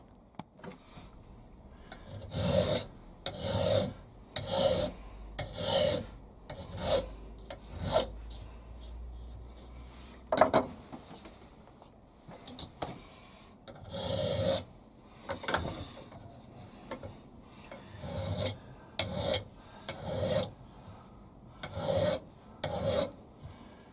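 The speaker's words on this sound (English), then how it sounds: "That's going to be a lot of hand filing" Hand filing a radius on a metal scribe block, repeated rasping file strokes in steady bursts of about a second each, with brief pauses between, close and clear with no talking.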